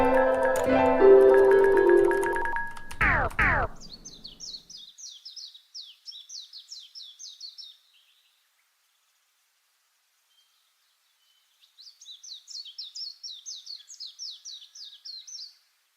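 Birds chirping in an indie JRPG video game, two bursts of quick high twittering calls separated by silence, after a short stretch of louder game music.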